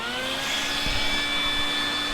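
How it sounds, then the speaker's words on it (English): A vacuum cleaner runs steadily while cleaning a Baby Lock drop-in bobbin sewing machine, a constant whining motor drone with a few soft bumps from the nozzle and no speech. "So I'm going to turn the vacuum on here. It's going to be a little noise."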